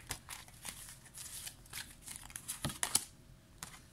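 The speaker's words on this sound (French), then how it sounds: "On va mettre 2 cartes supplémentaires ici." Tarot cards laid out on a table during a reading, giving soft, faint shuffling and sliding rustles in a loose rhythm with a few sharper flicks near the end, with no voice over them.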